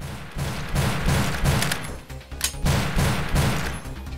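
Gunfire from a basic gun in the top-down shooter Crimsonland Bloodworks, a rapid, steady train of punchy shots with low thumps, loud and continuous throughout.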